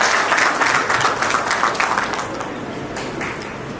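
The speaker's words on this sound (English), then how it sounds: "So put a big round of applause for your family and your parents." A convocation audience at a university ceremony applauds for families and parents, a dense, steady wash of many hands clapping close and loud, easing slightly toward the end.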